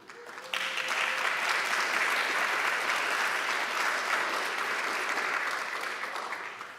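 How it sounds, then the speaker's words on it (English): An audience at an American University tech policy event gives a long, steady round of applause for Doreen, the first woman to lead her agency, with dense clapping that starts abruptly and holds loud throughout. "this deserves another round of applause"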